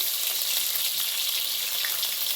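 Whole cloves, black peppercorns and cardamom pods frying in hot oil at the start of a vegetable biryani, giving a steady, close, bright sizzle throughout with no talking.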